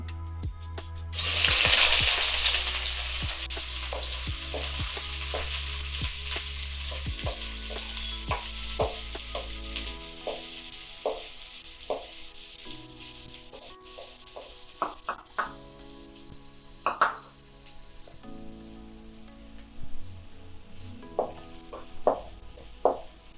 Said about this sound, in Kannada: ಸ್ವಲ್ಪ ಎಣ್ಣೆ ಬಿಸಿಯಾದ ನಂತರ ಈ ಈರುಳ್ಳಿನ ಹಾಕ್ಕೊತಿದ್ದೀನಿ